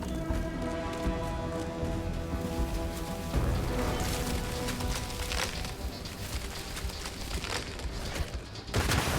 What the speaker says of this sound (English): that's bombarding me with those poison bombs